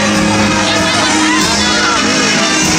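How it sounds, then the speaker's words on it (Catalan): A large outdoor crowd at the Three Kings parade in Montjuïc cheers for King Melchior, a loud, continuous roar of shouts, whoops and children's voices with applause blended in. "Donem-li un fort aplaudiment al rei Melcior"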